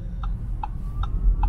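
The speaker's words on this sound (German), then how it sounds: "Ich blinke schon mal." Turn-signal indicator in an Audi e-tron ticks four times at a steady, even rhythm over a low, constant cabin hum, close and clear with no talking.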